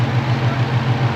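A car engine running with a steady low hum, close and continuous for a brief moment, with no talk over it.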